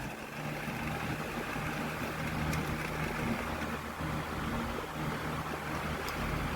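An Air King 16-inch commercial desk fan, a 2005 model 9106A, runs at full power with a steady, loud broadband whoosh and a low motor hum, holding an even level throughout with no talk.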